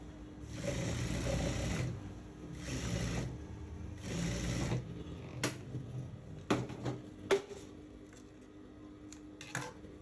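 A sewing machine stitching a dart in a short skirt runs in three steady bursts of about a second each, followed by scattered clicks and small handling knocks as the fabric is adjusted, close and moderately loud.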